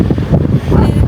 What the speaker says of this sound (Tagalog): pag mga ganitong hangin